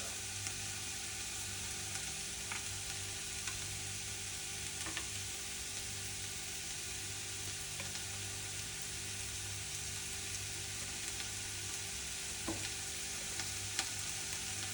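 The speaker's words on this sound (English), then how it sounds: "Get some butter. Butter my pan." Butter sizzles steadily in a frying pan while home fries and a French omelette are cooked in a small home kitchen, a constant crackling hiss with a few faint clicks and no talking.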